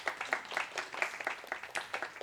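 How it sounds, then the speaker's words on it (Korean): A church congregation at a Sunday service claps to welcome a returning member, a moderate room-filling round of applause with uneven overlapping claps and no talking over it. "우리 환영의 박수 한번으로 우리 환영했으면 좋겠습니다"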